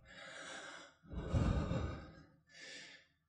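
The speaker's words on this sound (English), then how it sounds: "I don't know how loud my breathing is into this microphone." Heavy breathing close into a microphone during a balance exercise: three long, loud exhalations, sigh-like and breathy, with short pauses between them and no talk.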